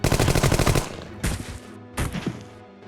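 Gunfire in the video game Jagged Alliance 2: a rapid automatic burst of closely spaced shots, then two shorter bursts after brief pauses, each with a quick echoing tail, loud and up front with no talking.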